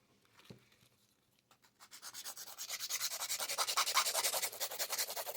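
A nail file rubs briskly over poly gel nails in fast, even back-and-forth strokes that build from faint scratches to a steady close rasping rhythm, with no talk.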